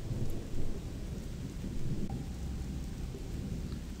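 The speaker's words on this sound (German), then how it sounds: "Das Grollen des Donners und das Zischen der Blitze hallt von den steilen Felswänden nieder, während der Regen unaufhörlich prasselt" Steady rain pours down during a thunderstorm in the Gothic multiplayer game, with low rumbling thunder rolling underneath throughout, continuous and moderately loud, no voices.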